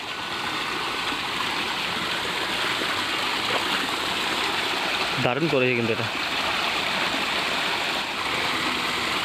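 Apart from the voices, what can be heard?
artificial waterfall flowing down from a hill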